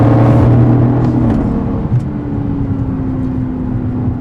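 A 2018 Aston Martin DB11 with a twin-turbo V8 pulls hard with a loud, deep engine drone and road rumble from inside the car, the tone shifting slightly as it accelerates.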